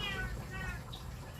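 A cat meows a few times close by, with a faint voice talking underneath.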